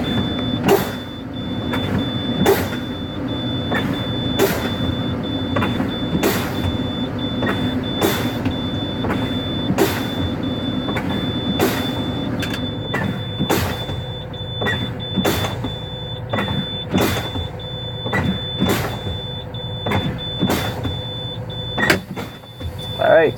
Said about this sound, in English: my spring brakes automatically just came on, so that means they're working